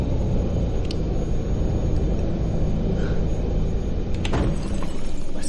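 Bus engine in Fernbus Simulator rumbling steadily while driving, a loud continuous low drone with a couple of brief rattles or knocks.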